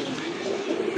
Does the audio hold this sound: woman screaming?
no